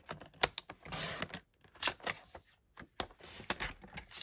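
Cardstock is trimmed for a stamped sunshine greeting card, with a run of sharp close clicks and brief slicing swipes at an irregular pace, quiet and free of talk.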